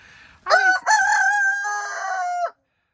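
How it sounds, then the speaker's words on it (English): A rooster crows loudly and close by, one long drawn-out call with a harmonic, slightly rising tone, with no talking. "I can hear the other hens in the garage talking"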